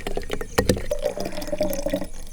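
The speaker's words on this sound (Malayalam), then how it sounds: "ഇനി നമ്മുടെ ചെറുനാരങ്ങ നമുക്ക് പിഴിഞ്ഞ് നേരെ നമുക്ക് ജാറിൽ നീരൊഴിച്ച് വെച്ചേക്കാം" Lemon juice being squeezed and poured into a jar, a close, wet trickle and splash with a few sharp drips and small bursts of liquid, no talk heard.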